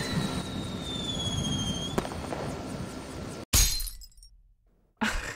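A propane tank blows up in the Henry Stickmin video game, a sudden sharp blast with shattering debris that cuts off a steady noisy background, followed by a fading tail, silence, and another abrupt burst.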